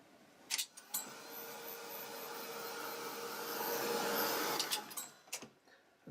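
Heat tool blowing over gold embossing powder to melt it: a soft, steady whooshing hiss lasting about four seconds, framed by light clicks and handling noises before and after.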